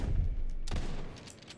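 Gunfire from a weapon taken from an enemy in an Indiana Jones video game: a low thump, then a sharp burst of shots with crackling tails that fade out.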